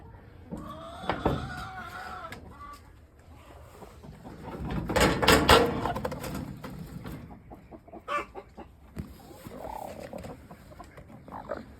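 A hen on a small farm gives a few soft, scattered clucks amid rustling and handling noises, with a louder stretch of scraping in the middle.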